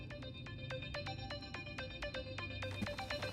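A phone ringtone rings in a fast, repeating pattern of bright electronic beeps, steady and clear over a faint low background hum.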